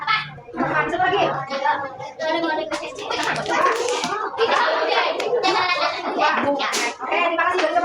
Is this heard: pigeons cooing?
no